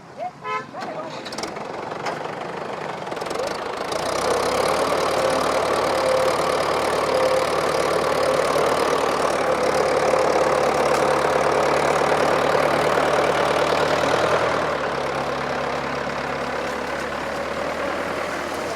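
A tractor engine idling steadily on farmland after hauling a tree into a field, a loud continuous low rumble that starts after a few seconds and holds throughout, with brief honk-like tones and talk over it.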